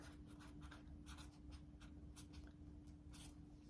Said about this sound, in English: grab some dry erase markers. I can show you, let's say. So you could just write directly on there.